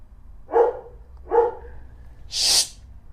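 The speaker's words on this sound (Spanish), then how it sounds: "es que van pasando los perros" Passing dogs give two short, sharp barks about a second apart, followed by a higher, breathy yip or sneeze-like burst, fairly close and loud against a quiet background.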